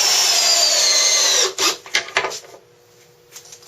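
Power drill driving countersunk screws through a 2x12 into a 4x4 timber, a loud steady whine for about a second and a half, then a few short stuttering bursts as it stops and restarts, then near quiet.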